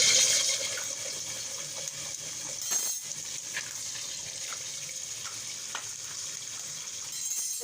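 A little oil heats in a kadai before eggs go in, giving a faint, steady sizzling hiss broken by occasional light clicks and pops.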